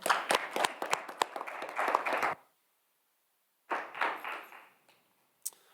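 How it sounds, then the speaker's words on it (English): Applause from a school district board meeting audience, a burst of clapping for about two seconds, then silence, then a second shorter round of claps fading out, with one sharp clap near the end. "let's give John a big round of applause"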